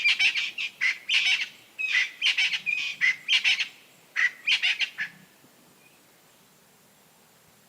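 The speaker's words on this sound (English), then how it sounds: "bird life and small critters are abundant inside this camp." Birds call inside Tendele campsite in Kruger National Park, sharp, clear chirps repeated in quick rhythmic bursts of several notes each, fairly close, before fading into quiet near the end.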